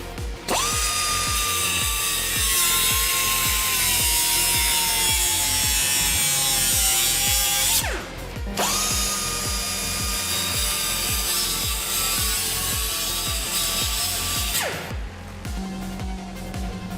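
Power saw cutting through metal exhaust headers on a 1932 roadster, a loud continuous grinding whine that runs about eight seconds, drops out briefly, then resumes for another long cut, up close with no talking.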